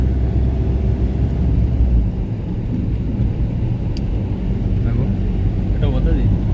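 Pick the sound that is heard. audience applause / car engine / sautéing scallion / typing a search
car engine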